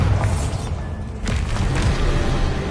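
A Bombarda spell blast in the video game Hogwarts Legacy, heard as a loud, dense low rumble with a couple of soft thuds, sustained and close, with no talk over it.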